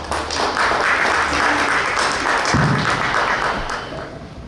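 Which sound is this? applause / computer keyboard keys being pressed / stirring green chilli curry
applause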